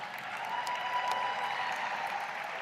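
Broad, steady crowd noise of cheering and applause at a labor union convention gathering, sustained and dense throughout with a faint whistle-like tone in the middle.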